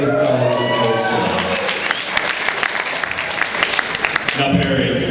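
Audience applause for the cast and director of the film Hatchet, a dense burst of clapping that swells and then thins out, with voices talking over it.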